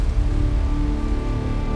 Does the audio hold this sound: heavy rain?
yes